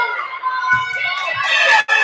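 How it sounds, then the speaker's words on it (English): A crowd at a basketball game shouts and cheers loudly and steadily, with a brief sharp dropout near the end. "The crowd in here is really intensified."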